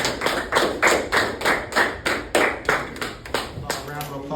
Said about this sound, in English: A round of applause for Mr. Al.